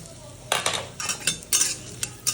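Cashews fry in a pan with whole spices such as cinnamon, giving a soft sizzle broken by several sharp metal spoon scrapes and clinks in uneven bursts.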